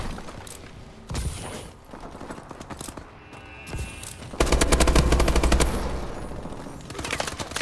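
Remote turret machine-gun fire in Call of Duty Advanced Warfare. Rapid automatic bursts come in several stretches, with the longest and loudest sustained burst in the second half, and quieter rattling between bursts.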